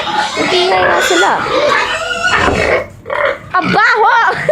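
Farm pigs squeal and oink loudly nearby in rising, wavering cries, while voices talk over and between the calls.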